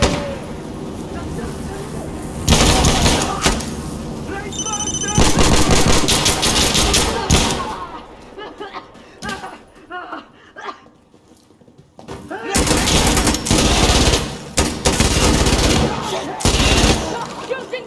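Sustained bursts of automatic gunfire and heavy shooting in the video game Insurgency Sandstorm, loud and dense with a brief lull midway, under shouted voices.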